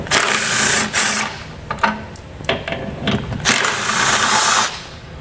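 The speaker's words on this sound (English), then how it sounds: "We'll use a 17 millimeter socket to remove these two bolts." A ratchet turns a 17 mm socket to back out the two bolts holding a tow hook on a vehicle frame rail, giving rapid clicking bursts and mechanical rattles up close with short pauses between runs.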